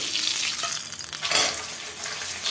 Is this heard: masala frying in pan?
yes